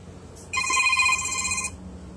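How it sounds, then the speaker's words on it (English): An incoming call on a phone rings once as a bright, electronic tone lasting just over a second, fairly close, over a low outdoor background hum, with no talk. "Well, I'm getting a phone call."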